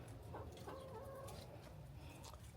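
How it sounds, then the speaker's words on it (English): Several backyard chickens clucking softly in a garden, scattered short calls over a steady low outdoor background, with no talking. "Chickens"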